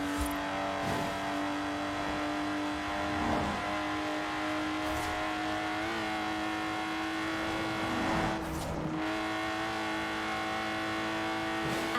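A Lotus Exige sports car with no power steering, driven in the racing game Forza Horizon 4, makes a loud, steady engine drone with two brief dips in pitch as it shifts gears.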